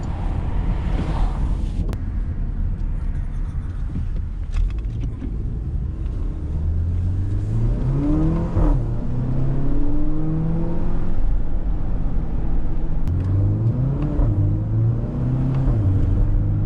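A 2019 Porsche Macan SUV with PDK dual-clutch gearbox accelerates, engine tone climbing in repeated sweeps with quick drops at each gear change, heard under heavy wind and road rush.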